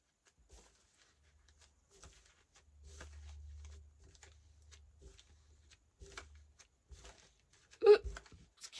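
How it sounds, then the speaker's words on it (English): A single sharp, close hiccup-burp bursts out near the end after quiet rustling and a low rumble, with no talking. "That was a hiccup and a burp."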